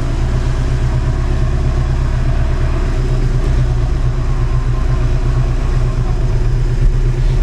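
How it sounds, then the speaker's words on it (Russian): Iveco diesel engine idling steadily in an off-road vehicle on a muddy trail, a loud, even low rumble throughout with no revving. "Ивековский двигатель стоит."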